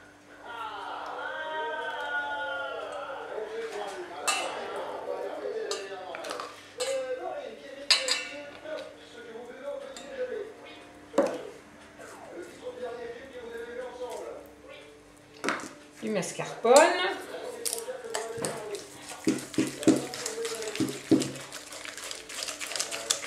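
A whisk beats mascarpone in a bowl, giving repeated clinks and scrapes against the bowl with steady rhythmic strokes, close up, with someone talking over much of it.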